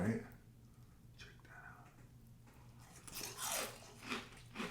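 Crunchy breakfast cereal tasting like cornflakes being chewed, with bursts of loud crisp crunching in the second half after quieter bites, under low talk.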